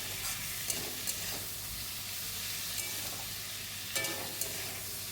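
Kundru (ivy gourd) frying in a pan with salt and turmeric, giving a steady close sizzle and hiss with a few soft stirring scrapes throughout.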